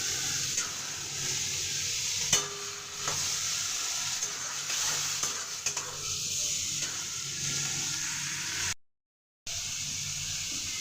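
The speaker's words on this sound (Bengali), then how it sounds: "ভাজা হয়ে গেছে চিংড়ি মাছ" Prawns fry in a kadai for malai curry, sizzling steadily while a utensil stirs and scrapes them around the pan at irregular intervals, with a brief dropout near the end.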